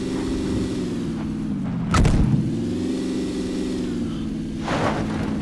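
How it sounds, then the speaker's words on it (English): A car engine hums steadily while driving in a battle-royale shooter game, a constant mid-loud drone broken by a heavy thump around the middle and a softer one near the end. "Are we driving? Yeah, we're driving."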